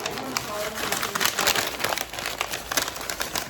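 Wrapping is folded and tucked around baby back ribs, giving close crinkling and crumpling bursts that swell and fade, with some background noise underneath.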